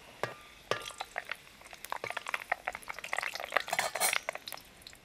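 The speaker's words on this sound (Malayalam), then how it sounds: "എണ്ണ ചൂടായി വന്നിട്ടുണ്ട്, നമുക്ക് ആദ്യം കുറച്ച് ഉലുവ ഇടാം" Fenugreek seeds fry in hot oil for a Kerala dry shark fish pickle, giving sharp, scattered crackles and pops that grow busier over a few seconds, close and clear.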